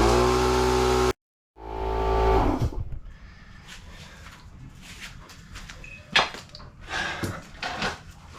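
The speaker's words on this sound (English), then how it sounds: "Compressor on." An air compressor inflating a tubeless adventure-motorcycle tyre gives a loud, steady motor drone that cuts off abruptly. A rushing burst follows, then quieter scattered clunks and handling noises.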